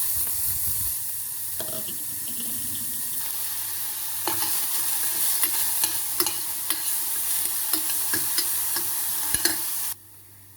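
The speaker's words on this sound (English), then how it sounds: "Heat a tablespoon of oil and saute the onions." Chopped onions sautéing in hot oil for egg masala give a steady close sizzle, broken by scattered spoon scrapes and taps against the pan, before the sound cuts off abruptly near the end.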